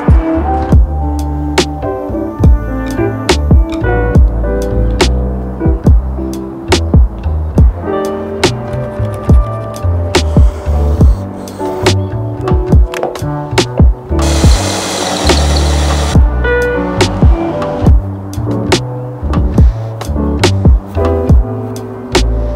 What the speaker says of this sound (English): I'm going to put some dowels in the edges using a homemade doweling jig